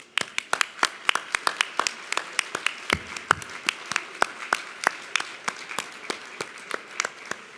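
Sparse clapping from a small audience at a philanthropy day ceremony, honoring the planning committee; distinct individual claps scattered in an uneven rhythm, moderately near, without voices.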